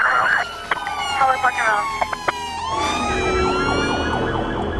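An ambulance siren wails close by, its pitch sweeping up and down, with other horn-like tones and traffic noise mixed in.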